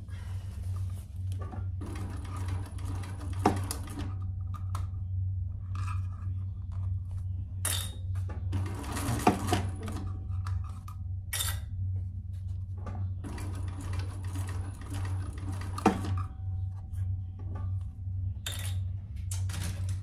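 A sewing machine stitches a Louie waist pack with a lengthened stitch, a steady low mechanical hum running throughout, punctuated by occasional sharp clicks and clinks of the mechanism, close and alone.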